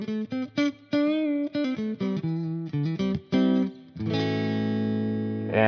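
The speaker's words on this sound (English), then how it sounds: "As you can see, that's with the reverb up all the way" An electric guitar with a stock P90-style neck pickup plays a run of short plucked notes, then a sustained ringing chord through a Marshall Valvestate 8100 100-watt amp with the reverb turned all the way up, loud and close.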